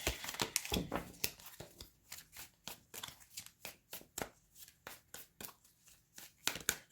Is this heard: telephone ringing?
no